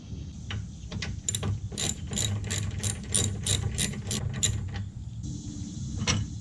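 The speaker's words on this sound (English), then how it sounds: "remove this 10mm bolt. So I'm going to do that now" Ratchet removing a 10mm bolt on a 2018 Mustang GT: a quick run of close, rhythmic clicking strokes that pause and resume, with a low hum under it and no talk.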